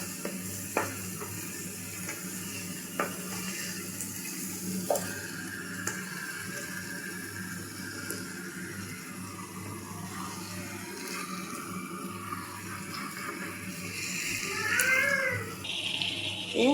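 Chicken pieces go into a pot of fried spices for chicken pulao, giving a steady sizzle and frying hiss with occasional stirring clinks and a louder burst of sizzling near the end.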